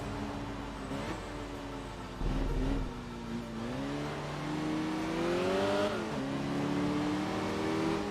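A race car engine in the racing video game Enthusia Professional Racing, revving and shifting continuously with rising and falling pitch sweeps as it accelerates through gears, steady and fairly loud throughout.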